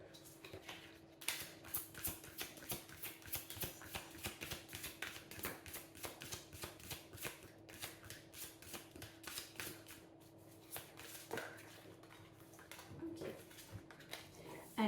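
Oracle cards being shuffled by hand, a steady run of soft papery riffles and flicks at close range, continuing for the whole stretch with faint room tone and no talk.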